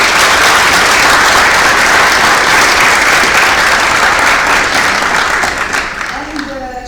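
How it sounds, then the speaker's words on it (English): A conference audience applauds its speakers: loud, dense, sustained clapping fills the hall, then tapers off toward the end as a voice begins. "I would like to ask you to give big applause to our speakers."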